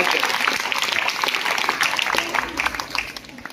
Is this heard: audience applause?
yes